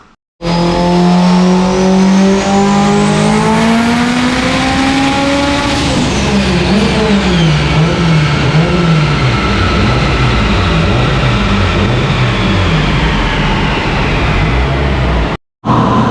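Subaru EJ257 engine on a chassis dyno, tuned for over 900 wheel horsepower, revving hard and rising steadily toward about 8,600 rpm, then wavering and bouncing near the top with turbo whine, followed by a brief cut and restart.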